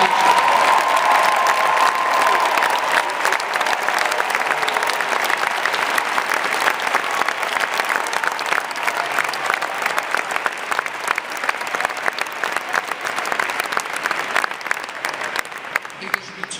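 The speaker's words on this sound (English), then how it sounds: "let's give them all a round of applause" A large crowd gives a sustained round of applause for standing teachers, a loud, dense wash of clapping with faint cheers and voices underneath that continues steadily throughout.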